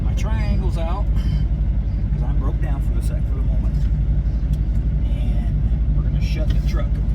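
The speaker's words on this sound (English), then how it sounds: "the motor's still running" A broken-down truck's engine idling at the roadside, a continuous low rumbling drone beneath someone talking throughout.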